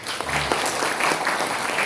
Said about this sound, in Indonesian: tepuk tangan untuk Pak Aji ya.